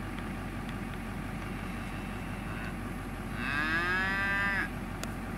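Cattle at a livestock sale, where a group of medium and large frame Angus heifers are up for auction. One clear, drawn-out moo rises in the middle of the clip over a steady background rumble of idling engines and sale-barn noise.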